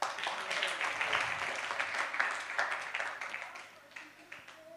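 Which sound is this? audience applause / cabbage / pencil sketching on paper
audience applause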